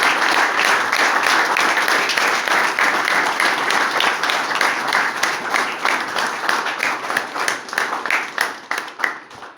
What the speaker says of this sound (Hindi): तो इसके लिए फिर एक बार दोबारा जोरदार तालियां।